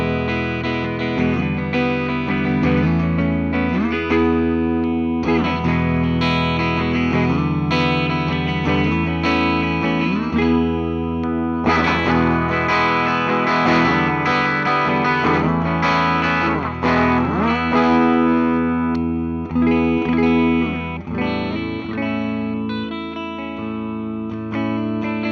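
A 1990 Gibson Les Paul Standard electric guitar on its middle pickup position plays continuous chords and melodic lines for about twenty-five seconds, full and steady with a bright, chimey ring, loud and alone.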